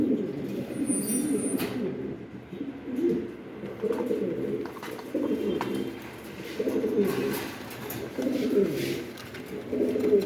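Spanish Gorgorio pigeons cooing nearby in a loft, a series of low, rolling coos repeating roughly every second or two, with faint background noise and no speech.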